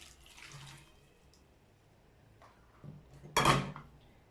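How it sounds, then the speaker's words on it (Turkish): Boiling water is poured into a vessel for Ottoman basil sherbet, a short splashing pour near the end after quiet handling noises, close and moderately loud. "6 su bardağı kaynar su ekliyorum."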